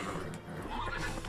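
In The Witcher 3, a horse gives a short whinny over busy game sounds and background noise.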